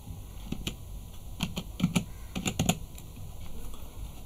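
Fingers tap an OTP code onto a device keypad for Aadhaar verification, a scattered run of soft, close clicks over a steady electrical hum.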